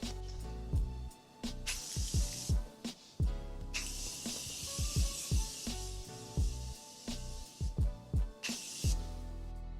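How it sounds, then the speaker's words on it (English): Several short, breathy hisses of Morphe makeup setting mist sprayed onto a face come in bursts, each lasting about a second, over steady background music. "I'm going to spray my face with my Morphe setting mist."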